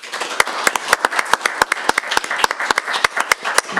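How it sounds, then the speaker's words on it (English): Applause from an audience at a courtroom memorial service: dense, sharp individual claps forming an irregular, fairly loud round of clapping that continues steadily throughout. "please join me in applause to express our gratitude."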